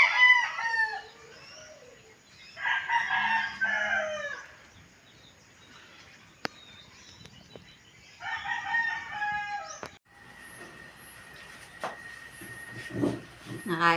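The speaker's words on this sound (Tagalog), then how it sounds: "sinira po ng manok ang aking mga halaman." Roosters crow loudly in several bursts among garden plants, with clucking hens between calls and faint background noise throughout.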